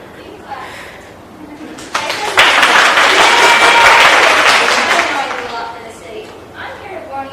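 An audience applauds at a school medieval festival, the clapping swelling into a loud, sustained burst before gradually fading, with faint voices around it.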